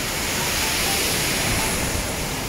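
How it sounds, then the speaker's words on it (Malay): A waterfall at Chamang in Malaysia on the way up Gunung Rajah, giving a steady broadband rush of falling water that fills the whole clip, loud and unbroken with no voices. "sekarang ni aku berada di betul di air terjun Camang"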